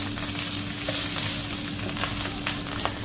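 Cut mushrooms frying in a pan, a steady, loud, close sizzle with a constant hiss and faint crackles throughout, no voices.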